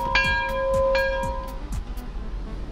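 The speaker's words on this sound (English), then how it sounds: "Somebody ring the bell." A bell sound effect rings out twice, each bright struck tone trailing long shimmering overtones that fade over a couple of seconds, with a low rumbling background underneath and no talking.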